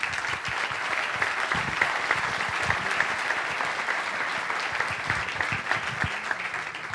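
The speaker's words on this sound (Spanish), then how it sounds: "un aplauso para Raúl" An audience at a health seminar gives a speaker a long, steady round of applause, many hands clapping evenly in a large room, with a few faint voices beneath.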